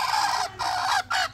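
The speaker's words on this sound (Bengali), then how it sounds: "উড়া মুরগি উড়ে এলা" Chickens cackle and cluck in a village yard with newly hatched chicks, three close, loud bursts of squawking separated by brief pauses, with no talking.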